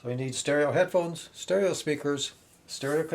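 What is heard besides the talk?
No everyday noise stands out behind the speech.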